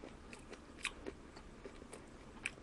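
Chewing crunchy engawa (flounder fin) sashimi: quiet, close mouth sounds with a few soft crunching bites spread over the moment.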